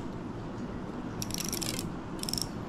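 A Shimano Bantam fishing reel's drag clicker is tightened and then pulled, producing two short bursts of rapid ratcheting clicks, close and fairly loud, over steady background noise with no talk.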